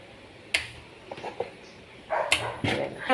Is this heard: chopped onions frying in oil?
no